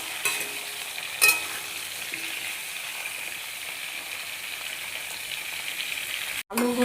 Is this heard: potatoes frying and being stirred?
yes